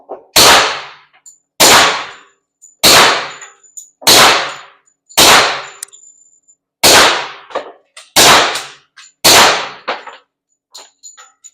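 Ten suppressed rifle shots fired in a group through a Rugged Obsidian 45 suppressor, each a sharp, loud report with a brief ringing tail, spaced about a second apart at a steady pace with no talking.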